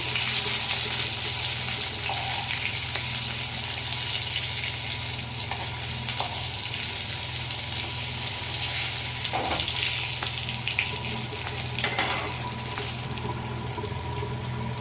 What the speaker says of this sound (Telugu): ఇవైతే కాసేపు కొంచెం కలర్ మారిన దాకా అలాగే వేపుకోవాలి